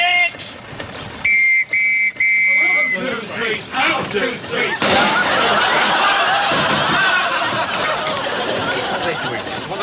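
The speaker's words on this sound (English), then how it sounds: "you get three blasts on your whistle" A referee-style whistle sounds in three sharp blasts in a wartime comedy scene, followed by laughter and chattering voices from a crowd.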